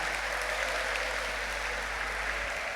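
Steady applause from an audience for a Language Manager award winner, a continuous dense clatter of many hands at even loudness, over a constant low electrical hum.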